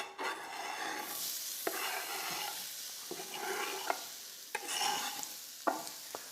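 Onions tumble into hot rapeseed oil and hiss steadily in the pan, with repeated scraping stirs of a spoon punctuating the sizzle, close and moderately loud with no talking.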